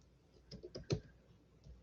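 Faint keystrokes on a computer keyboard, a short irregular burst of about five soft clicks in a quiet room.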